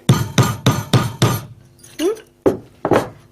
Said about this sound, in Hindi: इस हथौड़े की सहायता से।